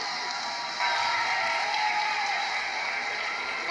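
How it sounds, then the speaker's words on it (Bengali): Studio audience breaks into sustained applause at a Bangla television show after a performance, a dense steady wash of clapping that swells slightly and holds, with scattered cheers mixed in. "করতালির ঝড় উঠিয়েছি আমরা।"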